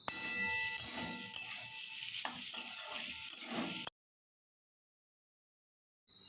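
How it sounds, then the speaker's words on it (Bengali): Boiled potatoes stirred and fried in masala, a dense close sizzle with occasional scraping for about four seconds, then abrupt silence before a faint sound returns at the end. "আলুটাকে এর মধ্যে দিয়ে ভালো করে কষিয়ে নেড়ে চেড়ে"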